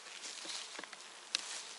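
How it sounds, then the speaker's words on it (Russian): Honeybees fly around an opened hive at an apiary, making a faint, steady, airy buzz with a few brief passing swells close by. "Как видите, пчелки летают."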